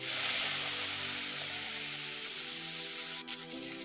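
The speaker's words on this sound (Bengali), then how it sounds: "তেল গরম হয়ে গেছে। এবার কেটে রাখা শাকগুলোটা দিয়ে দেব।" Chopped greens go into hot mustard oil in a pan, producing a steady, broadband sizzling hiss at moderate volume that continues throughout, with a short dip near the end.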